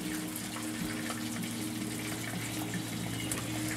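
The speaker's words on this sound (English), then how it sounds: "I'm sure you can hear that bubbling by now." Zucchini, bell peppers and green tomatoes in cream soda batter deep fry in hot oil, giving a steady, dense bubbling hiss that holds level throughout without pause.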